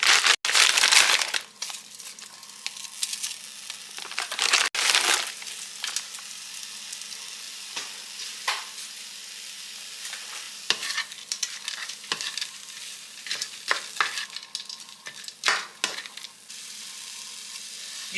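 Onion, peas and carrots stir-fry in a pan for fried rice, a steady sizzle broken by repeated scraping, crunching stirs, loudest at the start and then settling into quieter, intermittent clatter.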